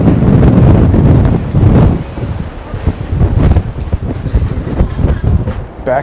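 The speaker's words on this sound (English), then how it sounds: "Back to windy as hell." Strong wind gusting along a New York City street, a loud, continuous rumbling buffet that surges and eases in irregular gusts.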